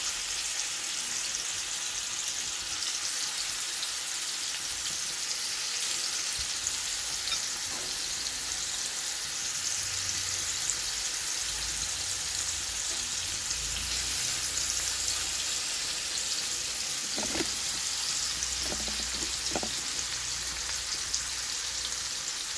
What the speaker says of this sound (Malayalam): ഒരു ശാലോ ഫ്രൈ ആയിട്ട് വന്നാൽ മതി.